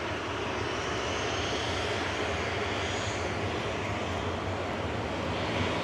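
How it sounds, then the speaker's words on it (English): An eight-year-old Jet2 Boeing 737-800 lines up for departure at Manchester Airport, giving a steady, loud, unbroken engine roar with no voices over it. "Lining up for departure next is Jet 2, flight 899 over to Pravita on the Greek mainland"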